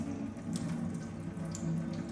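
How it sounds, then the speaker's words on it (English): Water draining out of a twisted bag of soaked bread for Maltese bread pudding, a steady close trickle and splash like running from a tap, with faint drips, continuous and without speech. "Look at the water coming straight out of it"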